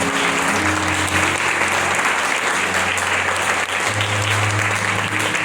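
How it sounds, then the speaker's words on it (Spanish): Church congregation breaks into loud, continuous applause, many hands clapping together in a reverberant hall, with low sustained organ or keyboard tones underneath throughout. "Denle ese aplauso al Rey de Reyes."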